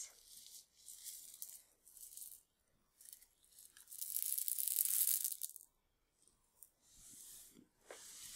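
A bag of green sea glass beads, small spherical beads, handled up close: crinkly rustling of the bag with soft clicks and a louder crunchy burst in the middle, alone without talk.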